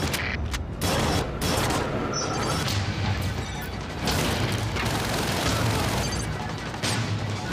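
Gunfire from the video game Splinter Cell Conviction, dense loud bursts of shots with crashing impacts and mechanical clatter, with a voice talking over it.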